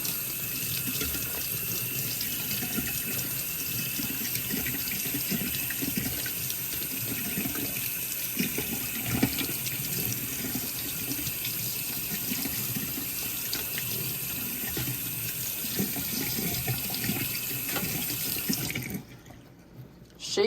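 Running tap water rinses a wire tree in a sink, a steady close splashing flow that shuts off abruptly near the end.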